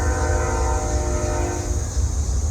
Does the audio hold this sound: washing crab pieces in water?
no